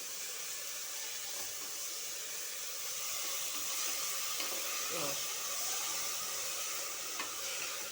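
Fenugreek leaves frying in a pan give off a steady, close hiss and sizzle that runs unbroken from start to finish, with no talk over it.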